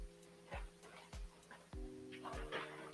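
A dog in an office makes soft whimpers and small yips over a constant electrical hum, with a few sharp bumps around it; quiet and close.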